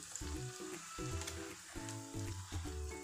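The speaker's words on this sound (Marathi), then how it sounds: "भटुरे किंवा पुरी टाकली ना की थोडंसं तेल त्याच्यावर उडवायचं असं ह्या झाऱ्यानेच" Bhature fry in hot oil while a slotted spoon splashes oil over them, giving a busy close sizzle and bubbling that rises and falls in waves, with no voices.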